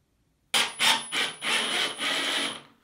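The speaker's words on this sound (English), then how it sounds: "you just slide the towel bar onto the brackets and then tighten them using the Allen wrench" A metal towel bar scrapes and rubs as it slides onto wall brackets in a small bathroom, followed by short rasping turns of an Allen wrench tightening the set screws; several close, bursty metallic scrapes with no talking.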